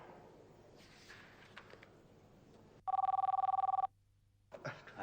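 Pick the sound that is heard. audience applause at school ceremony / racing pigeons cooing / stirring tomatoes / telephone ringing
telephone ringing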